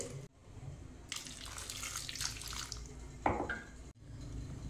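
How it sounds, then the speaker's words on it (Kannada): Water poured into a cooking pot over cut roots with salt, a faint gurgling splash of a few seconds amid quiet kitchen clatter. "ಈ ಬೇರು ಮುಳುಗುವಷ್ಟು ನಾನು ನೀರನ್ನು ಹಾಕಿದ್ದೇನೆ."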